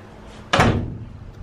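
A horse trailer door swings shut with a single sharp slam and a short rattling ring-out, heard close and loud against a quiet background.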